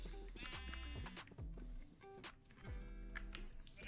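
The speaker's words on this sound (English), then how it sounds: "We can make a sheep farm. Come on, sheep." Sheep in Minecraft give several short, quiet bleats in quick succession, close by and alone.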